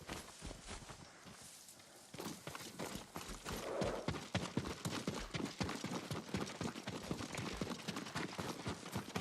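Horse hooves clip-clop at a walking pace on the ground in the Ghost of Tsushima video game, a steady rhythmic clatter that grows louder partway through over faint background ambience.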